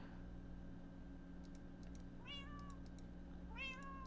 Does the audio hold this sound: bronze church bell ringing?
no